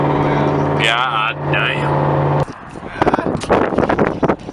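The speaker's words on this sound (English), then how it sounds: "love the sound of this fucking car, man" Shelby Cobra engine through a new aftermarket exhaust, a loud steady drone with a rising whine early on, then a voice cuts in and talk continues over the car.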